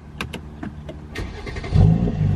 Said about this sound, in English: car starts up by the push of a button